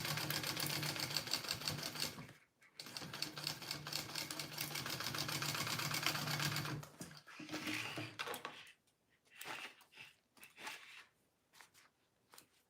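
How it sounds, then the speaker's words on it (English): A sewing machine stitching a bowler bag with a 1/2 inch seam, running steadily in long close bursts, pausing briefly, then stopping and restarting in short stitches. "I am going to sew this at 1/2 inch"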